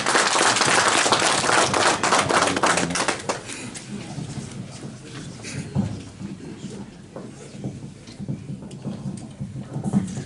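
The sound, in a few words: audience applause for speaker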